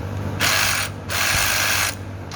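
A hand ratchet loosens a bolt on a catalytic converter under a 2015 Buick Verano, giving two loud bursts of rapid clicking separated by a brief pause, close up.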